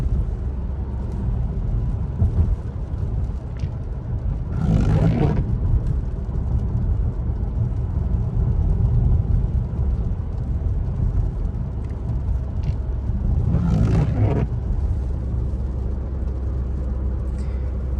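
A learner car accelerating in third gear during a driving lesson, its steady engine and road rumble continuous throughout with two brief louder swells of passing noise.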